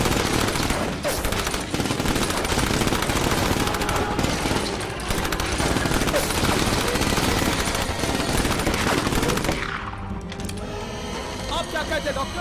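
Dense machine gun fire rattles loudly and continuously for about ten seconds in a Hindi-dubbed action movie, then cuts to a quieter scene with faint rapid clicking.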